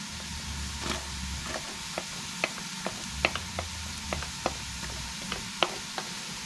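Garlic sizzles in a pan alongside browning ginger, a steady hiss broken by repeated sharp clicks and scrapes from a utensil stirring it, close and fairly loud, with no talking.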